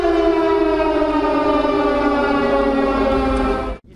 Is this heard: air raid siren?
yes